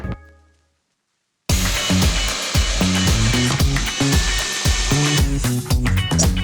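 After a moment of silence, a power saw bites into wood with a loud, continuous buzzing whine that rises and falls as the cut proceeds.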